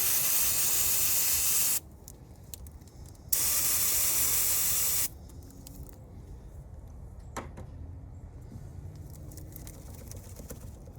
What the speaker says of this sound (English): spray it again with the battery cleaner,